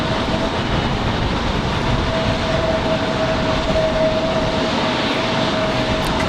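A Breeze Airways jet arriving at Raleigh-Durham International from Orlando, Florida: a steady, loud, broadband engine roar with a faint sustained whine, holding even throughout with no talk over it.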